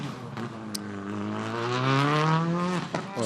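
A Skoda Fabia R5 rally car drives at the start of a rally in the Ajaccio area. Its engine note climbs steadily in pitch, loud and close, with no voices over it.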